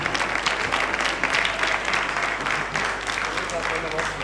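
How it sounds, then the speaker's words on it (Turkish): A studio audience at a 1990s Turkish talk and music show claps loudly and steadily for several seconds, a dense wash of applause that fills the whole clip. "Hadi sahneye alkışlayalım."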